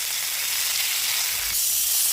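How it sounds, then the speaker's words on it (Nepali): Garlic and saag greens with fenugreek, cumin and chilli fry in hot oil in a pan, giving a steady loud sizzling hiss that brightens slightly partway, close up with no talk. "सागलाई पनि एकदम फ्राई गर्नु"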